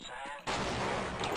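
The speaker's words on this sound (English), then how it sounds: "There's a sniper here which can shoot me." A loud sniper shot in the video game Half-Life cracks out suddenly after a quieter stretch, its blast ringing on and then fading slowly.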